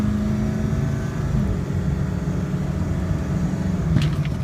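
Diesel engine of a 2002 Ford F250 4x4 crew cab truck pulling under acceleration, a steady loud low drone with a rising tone, heard from inside, without talking.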